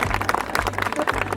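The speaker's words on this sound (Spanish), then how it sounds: "O sea, un aplauso para él." Audience applause at a talk on climate change adaptation in Vitoria-Gasteiz, a brief burst of dense, close clapping.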